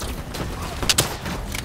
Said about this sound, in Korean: 인간적으로 유탄 발색이 소리 너무 크다.